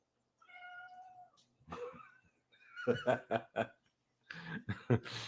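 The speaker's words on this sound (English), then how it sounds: "You're the chillest cat ever, buddy." A relaxed pet cat lets out a drawn meow and a few short vocal chirps, near and quiet, alternating with a man's chuckling and speech.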